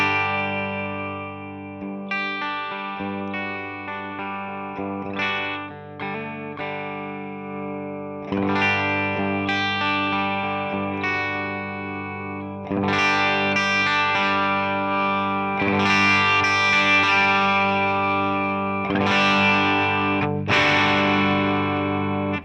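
An electric guitar played through a Tonex pedal amp model starts clean and quiet, then sustained strummed chords grow louder and more saturated, with overdrive and distortion building as the volume rises.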